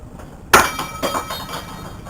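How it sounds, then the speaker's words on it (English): A kitchen knife falls onto a kitchen floor with one sharp metallic clatter and a few fainter rattles as it settles, close and loud against a quiet room. "I dropped the knife"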